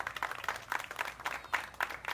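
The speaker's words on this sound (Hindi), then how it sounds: "तालियां बजाओ आराम से" Audience clapping in a television comedy scene, a steady patter of many hands with repeated swells, moderately loud and continuing throughout.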